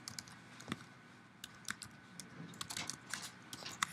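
Scattered clicks of typing on a computer keyboard, some sparse and some in quick bursts, close and fairly quiet over a soft background hiss with no talk.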